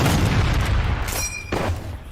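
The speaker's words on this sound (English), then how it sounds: "Just pop a few shots off." Gunfire rings out in a lava-filled video game: a dense, rumbling run of booming shots, then a couple of sharper distinct blasts, loud throughout and with no talking.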